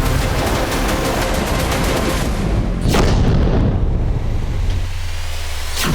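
Explosions from Russian drone and missile strikes in western Ukraine, heavy booms with sharp cracks over a dense, constant roar, one loud blast standing out near the middle and another near the end.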